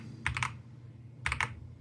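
Two short bursts of typing on a Hator Skyfall 80 TKL tenkeyboardless keyboard, each a quick cluster of three or four crisp keystrokes about a second apart, close and clear with no talking.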